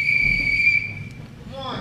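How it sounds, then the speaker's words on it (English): A sharp, sustained whistle at a wrestling match, where two neighborhood stablemates face off, shrieks loudly for nearly a second, then fades out. Crowd murmur runs underneath throughout. "that godforsaken whistle"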